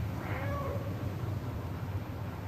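A cat character in the video game Stray gives a short meow early on, set against a steady low game ambience hum.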